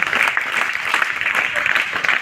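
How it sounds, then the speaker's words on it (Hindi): NCC cadets clap loudly at a Youth Day talk, a dense, steady burst of applause filling the whole moment with no voices over it. "हाँ, एक बार उसके लिए तालियां बजाएंगे जोर से।"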